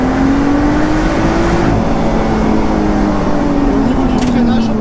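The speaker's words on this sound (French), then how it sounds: "Et elle pousse immédiatement avec le compresseur, ça." A supercharged 3.5-litre V6 Lotus Exige V6 S accelerates on the road, its engine note rising steadily as a loud, continuous drone heard from inside the car, with a brief shift partway through.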